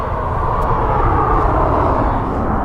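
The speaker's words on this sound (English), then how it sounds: "And away she goes, our Boeing 767 off to Leipzig." A Boeing 767 airliner takes off and climbs away from an airport. Its broad, steady engine roar is loud and continuous with no other sounds.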